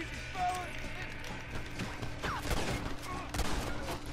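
Gunfire in the Red Dead Redemption video game: scattered shots and a ragged volley under a busy mix of game noise, moderately loud, with someone talking over it.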